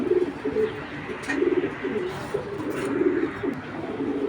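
Racing pigeons coo continuously nearby, with soft, repeated throaty calls overlapping under a steady background murmur.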